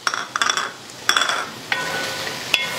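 Chicken, potato and beans stir-roasted in a pan without oil, a spoon scraping and clinking against the pan in several quick strokes with a faint sizzle underneath, close by and without talk.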